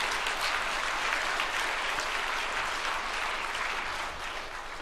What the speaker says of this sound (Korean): 네, 박수로 환영하고 축복해 주시기 바랍니다.